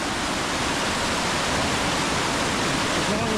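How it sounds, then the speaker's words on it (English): A small waterfall in the Oregon backcountry in winter pours in a constant, dense broadband rush of falling water. It is close and steady, with no break. "And I saw this gorgeous little waterfall over here."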